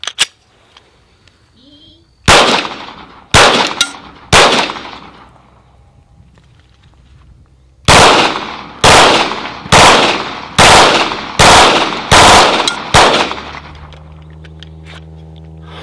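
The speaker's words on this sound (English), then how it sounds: "We're going to shoot a Glock 18C, and we're going to start with a little semi-auto," A Glock 18C pistol fires loud, close shots with ringing echoes: four spaced single shots, a pause, then a longer run of evenly spaced reports about a second apart.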